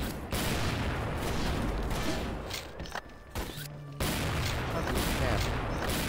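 Sustained automatic gunfire in the video game XSHOT, loud and continuous with a brief drop-off near the middle before resuming, with a player's voice speaking over the shooting.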